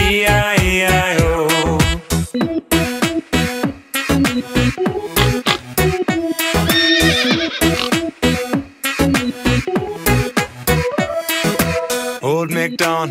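A singing voice imitates a horse's neigh in a children's nursery rhyme about a farm, with repeated short whinnying calls woven into a bright, rhythmic sung melody with musical backing.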